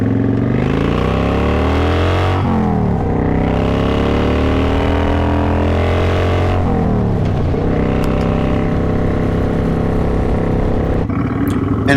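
A Kawasaki motorcycle rides down a street with its engine droning loudly and close, revving up and easing off in repeated swells as it shifts through gears, with no talking.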